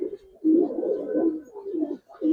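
Pigeons of coloured Giribaz type cooing close by, a couple of soft, low, rolling coos running back to back, with no talk over them.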